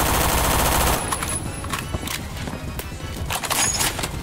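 Gunfire in the shooter video game Phantom Forces: rapid automatic bursts and crackling shots in quick, loud succession, with the heaviest burst at the start and more shots scattered through the rest of the clip.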